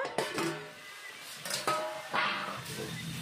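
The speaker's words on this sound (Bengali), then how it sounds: "ঢাকনাটা তুলে নেব।" A metal lid lifted off a pan of cooking greens with turmeric, giving several close, ringing clanks and scrapes spaced over a few seconds, with no talk.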